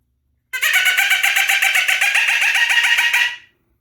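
A loud, rapid series of evenly spaced hollow clucking notes, about three seconds long, standing alone; a pileated woodpecker call imitated to provoke turkey gobblers.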